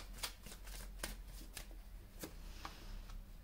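Tarot cards being drawn and handled during a reading, soft close snaps and papery flicks at irregular intervals over a low background hum.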